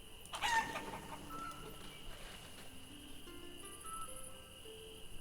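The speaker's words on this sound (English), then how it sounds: "We've got a diseased chicken." Chickens cluck and crow faintly in the Life Is Feudal: Forest Village medieval game world, a diseased bird among them, with a soft burst early on, then scattered calls over a steady cricket-like ambient bed.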